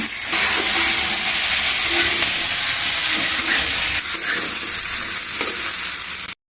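Cauliflower and potato sizzling in hot oil for a homemade vegetarian curry, a loud continuous close-up fry with light stirring clinks, ending abruptly.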